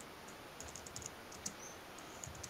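Faint, quick tapping of a computer keyboard in a quiet room, irregular clusters of light clicks over a low background hiss, with no talking.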